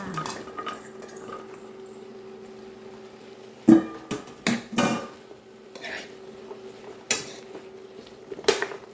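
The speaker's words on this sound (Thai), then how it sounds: "แล้วใส่ผักลงไปเลยค่ะ" Vegetables added to a pan of stir-fried pork in a Thai home kitchen, giving a few sharp clatters and scrapes of a utensil against the pan over a quiet hum.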